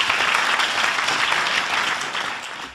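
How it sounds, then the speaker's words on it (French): Audience applause at an academic heritage conference fills the hall, a thick continuous patter of many hands that holds steady and then tapers slightly at the end. "on peut les applaudir"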